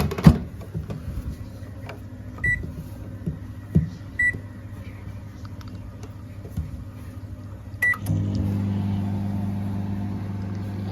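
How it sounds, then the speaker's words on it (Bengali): A microwave oven heating parathas wrapped in paper gives a few sharp button beeps and clicks, then starts a steady, loud low hum that runs to the end. "সেটা হচ্ছে মাইক্রোওভেনে দিয়ে দেবো পরোটাগুলো।"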